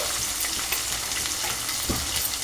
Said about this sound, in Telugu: ఆనియన్ మంచిగా ఫ్రై చేసేసుకోవాలి